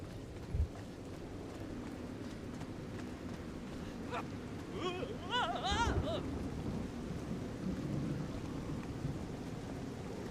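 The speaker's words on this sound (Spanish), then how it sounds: "Lluvia ácida." Acid rain and thunder in the video game Little Orpheus: a steady, dense hiss of rain with a low rumble of thunder, a brief thud near the start and a few rising tonal chirps midway.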